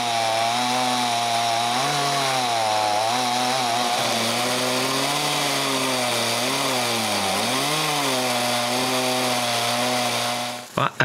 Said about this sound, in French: il est en train d'avoir son cours de maniement de moulin à scie à chaîne.